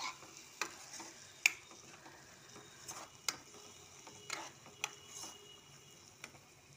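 Cumin and coriander powder masala fries quietly in a pan, with a faint low sizzle broken by sparse, sharp spatula scrapes and clicks.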